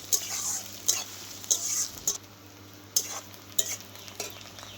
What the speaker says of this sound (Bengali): পেঁয়াজটা দিয়ে আমি তেজপাতা দিয়ে দিচ্ছি